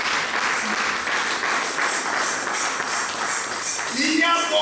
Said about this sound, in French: Nous acclamons pour Jésus-Christ ce matin.